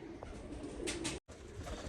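Pigeons kept by a breeder coo softly and faintly beneath a steady wash of background noise, a low murmuring call with no voices over it.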